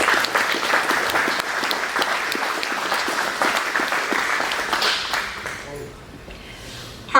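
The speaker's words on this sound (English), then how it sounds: "Let's give Dorothy a round of applause." An audience at a Western book award ceremony applauds, a full round of clapping that holds steady for about five seconds, then thins out and fades, with a voice briefly audible.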